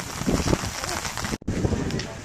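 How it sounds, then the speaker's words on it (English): Steady rain hisses throughout, with people talking over it and a brief dropout partway through. "Unfortunately, it is raining."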